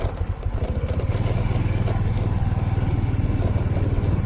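A motorcycle rides steadily along a road in Thailand, its engine putting out a close, even, rapid pulsing throb that holds for the whole stretch with no talking.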